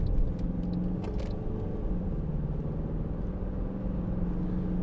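A 2011 Mercedes-Benz C200 CDI BlueEFFICIENCY SE diesel saloon cruising on a motorway, a steady low rumble of engine and road noise from inside the cabin, continuous and even throughout with no talk.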